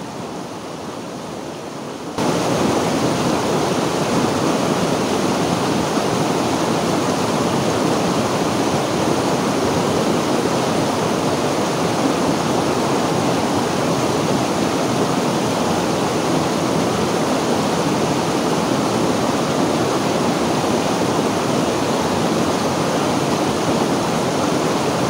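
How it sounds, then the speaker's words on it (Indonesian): Steady, loud rush of flowing water at Curug Tirta Raja waterfall, a dense continuous roar that fills the scene after a brief quieter opening, with no voices. "suara gemericik air yang mengalir membuat kita rileks"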